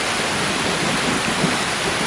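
Steady heavy rain pours down outdoors over beehive boxes during a thunderstorm, a dense continuous hiss that stays loud and even throughout with no voices.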